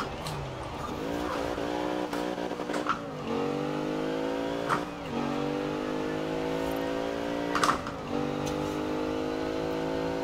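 A 2014 Jeep Grand Cherokee's engine revs hard through gear changes while racing in Forza Horizon 4, a loud continuous drone with rising pitch sweeps, brief shift dips and occasional tyre squeal.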